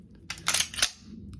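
An SKS rifle fitted with a forced reset trigger is worked by hand, giving a few sharp, close metallic snaps and clacks in quick succession before it goes quiet.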